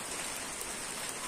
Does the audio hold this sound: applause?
no